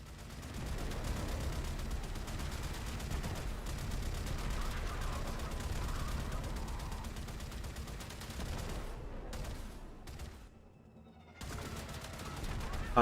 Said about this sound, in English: Spaceship go pew pew.